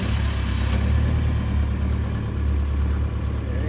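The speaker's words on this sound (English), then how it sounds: "let's try it out and see if our engine actually runs" A boat engine runs steadily with a low, continuous mechanical drone that stays close and even throughout, with no voices.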